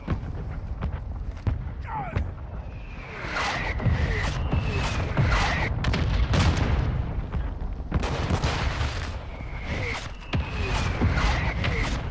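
Mortar strike explosions in Call of Duty: Modern Warfare II, on a hotel map, land as a series of heavy booms spread over several seconds amid ongoing gunfire and battle noise.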